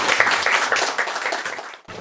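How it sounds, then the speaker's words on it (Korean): A lecture audience claps briefly after a question is answered, a short burst of mixed hand claps that thins out and stops abruptly near the end. "박수."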